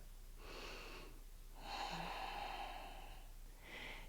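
Slow, steady breaths during a yoga pose: a long inhale and exhale with soft airy hiss, close to the mic and alone without talk, followed by the start of another breath.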